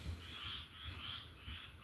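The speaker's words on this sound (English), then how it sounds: "Ignore the frogs." Frogs croak after a storm in a steady outdoor chorus of overlapping, pulsing calls, faint and continuous throughout, with no voices.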